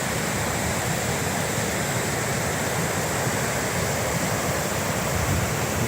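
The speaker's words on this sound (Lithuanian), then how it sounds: "Tokia upė teka." Strong, fast glacial river of brown, muddy water flowing near glaciers in Iceland, a constant loud roaring wash close by with no talking.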